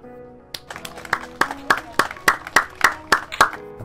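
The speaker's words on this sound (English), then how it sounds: "Golf clap." A sparse golf clap rings out from a live show, about a dozen distinct slow hand claps in an even rhythm, close and fairly loud, with a faint voice underneath.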